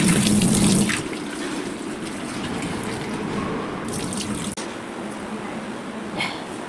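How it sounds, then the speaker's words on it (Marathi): Bitter gourds that soaked overnight in salt and turmeric are rinsed under a running tap. A steady stream of water splashes close by, with a heavier gush at the start and then a continuous wash without a break. "आता याला मी धुवून घेते परत"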